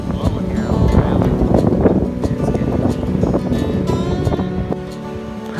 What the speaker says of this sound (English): it's just storming and blowing here on the valley